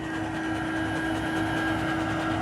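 SD70 freight locomotive passing close by as a steady, loud, continuous rumble with a constant engine hum and high whine, no breaks or horn, and no talk.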